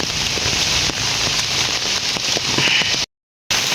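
Steady rain falls in a remote village, a dense, even hiss with scattered drop patter close by, continuous apart from a brief gap of silence near the end.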